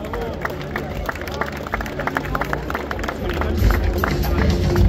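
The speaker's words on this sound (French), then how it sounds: "Les applaudissements." Spectators applauding at the finish of a 5 km race in Avignon, steady scattered clapping with crowd murmur and voices, growing louder toward the end.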